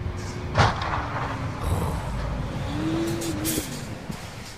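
Heavy trucks on a Wyoming road, one letting out a hissing air-brake release with a brief squeal among rumbling traffic, heard moderately close and fairly faint, with no talking.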